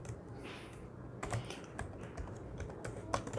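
Typing on a computer keyboard, a steady run of close, crisp key clicks with a few louder taps, heard alone without speech.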